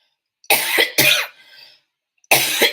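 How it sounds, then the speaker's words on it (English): Three harsh, close coughs: two quick ones in succession, a short pause with a faint breath, then a final cough. "And I am coughing."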